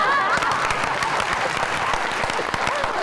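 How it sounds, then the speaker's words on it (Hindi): A studio audience claps steadily throughout on a television talk show, a dense, loud burst of applause. "ये कॉन्फिडेंस की ताली है।"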